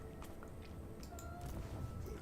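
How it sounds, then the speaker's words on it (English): A cat meows faintly a few times in the background, half buried in steady noise during an online co-op gaming session. "I hear kitty cat."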